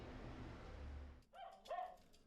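Dogs at an animal rescue shelter for abandoned and abused animals give two short yelping barks near the end, after a stretch of low, steady background rumble.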